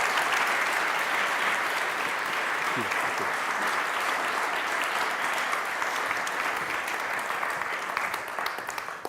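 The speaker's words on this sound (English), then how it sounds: "let's give a big, warm round of applause for Nicola" A conference audience at a business congress gives sustained, dense applause for a speaker, steady throughout and tapering slightly at the close, with a brief voice heard under it.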